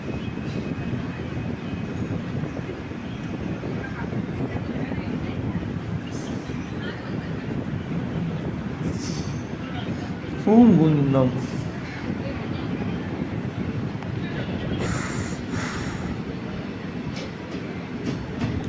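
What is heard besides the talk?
passenger train arriving at Poonkunnam railway station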